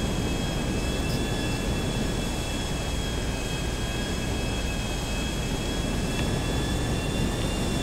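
Airplane flying in GTA Online, a steady broadband engine roar with a high whine running unbroken and loud, with no talk.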